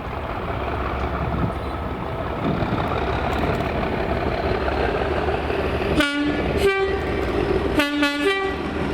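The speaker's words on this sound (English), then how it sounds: "Then finally Slateford for the light locomotive move to Mossend of 800, being OT07" A light locomotive rumbles past on a Scottish railway line, a steady heavy drone for several seconds, then two loud two-tone horn blasts around the six-second mark and another pair of blasts near the end.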